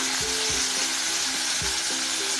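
Busy bubbling and sizzling from a pan of dhokla mixture boiling, with a few squeaky scraping stirs over the steady frothy hiss.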